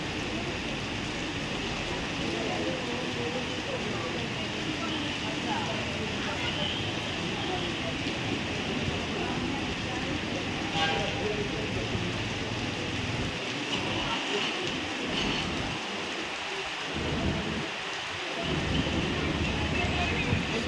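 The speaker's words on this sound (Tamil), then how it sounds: "செம்மா மழை பெய்யுது" Heavy rain falls at night at the Erode bus stand, a dense, steady hiss that fills the whole stretch with little change in loudness.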